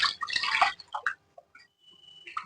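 Water poured from a lota into wheat rava payasam cooking in a pan gives a short close splashing gush, followed by softer drips and light bubbling.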